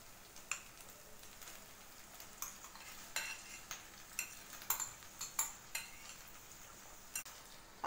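Pav bhaji being stirred in a pan, mashed potato and cauliflower worked into the roasted masala and butter, giving soft scraping and clinking spoon strokes at an irregular rhythm under a faint background hiss, with no talk.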